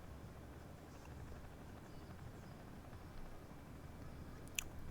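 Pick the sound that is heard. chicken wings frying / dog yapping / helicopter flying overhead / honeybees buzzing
helicopter flying overhead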